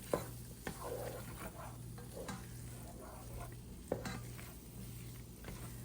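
A spoon stirs chickpea flour into a pot to make a roux for asparagus soup, with a soft steady sizzle underneath and occasional light scrapes and taps against the pot; no talking.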